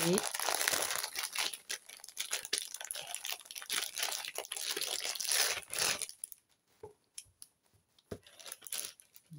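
A wrapped agenda planner being unwrapped, loud crinkling and tearing of wrapping close up in bursts, then quieter with scattered crinkles and a few soft rustles.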